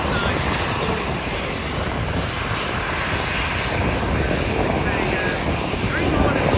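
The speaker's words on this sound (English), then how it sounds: "with the lighter aircraft here at Manchester, obviously they just take off quickly, whereas a heavier aircraft takes off longer." Aircraft taking off from the runway at Manchester Airport, a loud, steady, broadband engine roar that fills the whole stretch with little change.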